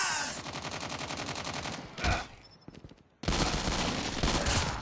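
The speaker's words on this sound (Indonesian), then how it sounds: "Senjata keenam shotgun. Shotgun HS." Shotgun fire in Call of Duty Mobile during a gun game match, loud rapid bursts of shots with a brief lull midway, then firing resumes close and heavy.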